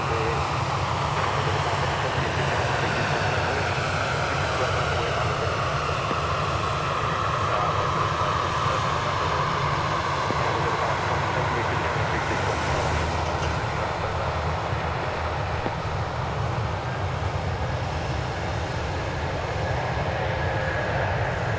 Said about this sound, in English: American Flight 474 is taking off to Phoenix.